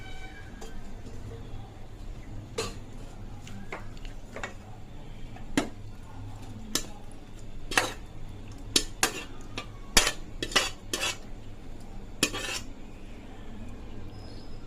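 Cooked chicken is spooned into a dum biryani pot over a layer of rice, with a run of metallic clinks and taps of a spoon against the pot over a low background hum.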